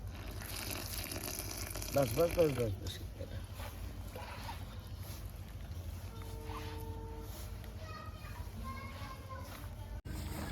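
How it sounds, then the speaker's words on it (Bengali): Water is poured into flour to knead a firm dough for methi paratha, giving a short splashing gush amid steady background noise, with faint tonal sounds in the background. "এরপরে সামান্য জল দাও"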